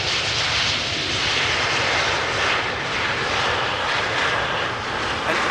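An aircraft arrives on the Polderbaan runway 18 Right at Amsterdam Schiphol Airport, its engines producing a loud, sustained, even roar throughout.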